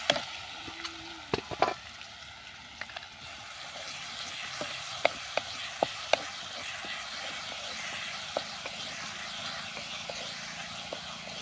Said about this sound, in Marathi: तेल छान गरम झालं आहे यामध्ये आपण हिरवी मिरची लसूण जिरं जे आहे वाटण ते टाकूया